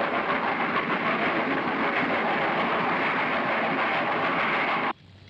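A train on the historic, century-old Mogiana railway in Brazil roars past, loud and close in a steady, dense rumble with a rattling clatter of cars, then cuts off abruptly near the end.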